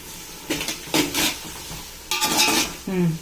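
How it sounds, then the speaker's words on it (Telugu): Gongura pickle being stirred in a pan: repeated scraping strokes of a spoon against metal over a faint sizzle, close and clear, in short bursts with brief pauses, no voices. "ఇది అడుగంటకుండా కలపాలి"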